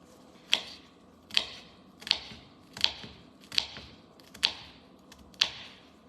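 A knife chops food into tiny pieces on a cutting board while cooking spaghetti with fresh basil, giving seven sharp, evenly spaced chops at a steady rhythm, close and fairly loud with no talking.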